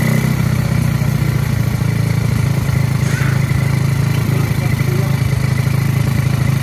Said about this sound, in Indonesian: Motor sudah bisa hidup